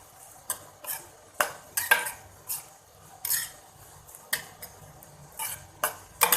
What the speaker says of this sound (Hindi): प्याज को अच्छे से ब्राउन होने तक इसी तरह हम पका लेंगे जी।